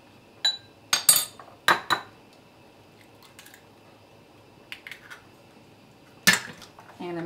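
Sour cream and an egg mixed in a bowl for mac and cheese, with a few sharp clinks of a utensil against the dish in short bursts and quieter scraping between, close by.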